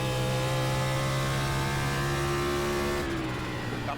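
Race car engine in NASCAR iRacing, Class B series at New Hampshire, droning steadily at held revs throughout, shifting pitch near the end as the throttle eases, with no talk over it.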